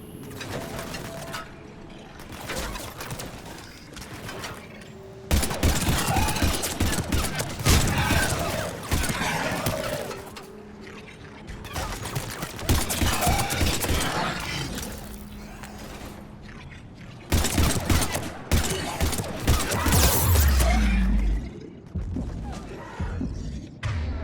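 Bursts of gunfire from a Mass Effect 3 firefight, with rapid volleys separated by brief pauses, punctuated by heavy thuds and mechanical clacks, loud and close throughout.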